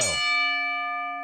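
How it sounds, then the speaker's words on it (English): A single wrestling ring bell struck once, a bright metallic clang whose pure ringing tone sustains and slowly fades on its own. "That deserves some music, and it also deserves a bell."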